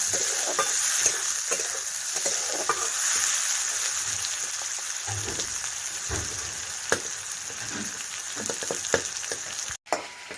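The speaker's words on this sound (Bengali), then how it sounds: "একটু লাল লাল করে ভেজে নেব।" Onions frying in oil in a pan, a constant close sizzle broken by repeated stirring scrapes and clinks of a utensil against the pan, with no talking.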